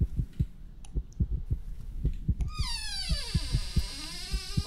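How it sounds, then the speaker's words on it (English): Steady thumping heartbeat effect from the horror video game From The Darkness, a regular double-pulsed throb repeating throughout, with a rising electronic tone sweeping in partway through. "Why is my heart beating?"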